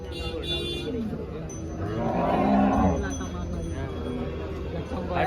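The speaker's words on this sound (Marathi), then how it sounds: "इकडं पण काही गाय आहेत बघू शकता" A cow gives one long, low moo in the middle of the noisy Chalisgaon cow market, with voices and general bustle around it.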